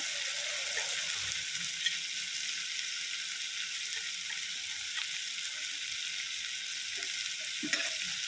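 Carrots, beans and other vegetables sautéing with dried chillies in a pan, a steady close hiss of sizzling oil running throughout with a few faint stirring taps.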